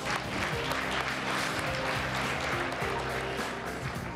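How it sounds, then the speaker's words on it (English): Dense, steady applause from an audience at a gala dinner fills the whole few seconds as an even wash of clapping, fairly distant, with faint crowd murmur under it. "So let's give her a big round of applause one more time."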